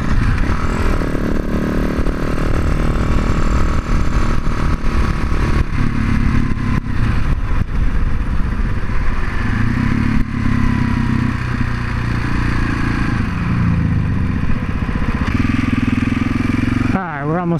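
A supermoto motorcycle rides toward a wheelie test, its medium engine droning steadily with shifts in pitch as it accelerates and settles, loud and close throughout, with wind rush and a brief clatter near the end.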